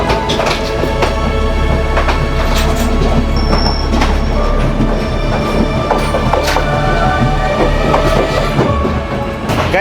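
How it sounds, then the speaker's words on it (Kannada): A Sri Lankan coastal train runs with a loud, steady rumble, rhythmic wheel clatter and a few brief high squeals, heard close from on board with no voices. "ಇಲ್ಲಿಂದ ಸ್ಟಾರ್ಟ್ ಆಗುತ್ತೆ ನಿಜವಾದ ಟ್ರೈನ್ ಜರ್ನಿ"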